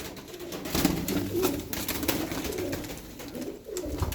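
Tumbler pigeons cooing in a loft, repeated soft low coos rising and falling over a steady background hiss, fairly close, no talking.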